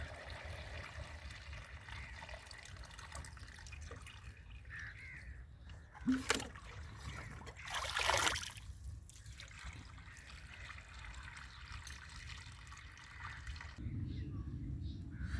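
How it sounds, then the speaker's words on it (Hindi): Water is poured into a pesticide sprayer tank while fungicide for tomato plants is mixed: a short splash, then a louder rushing pour lasting about a second, set against quiet outdoor background with no talking. "18 लीटर पानी डालेंगे।"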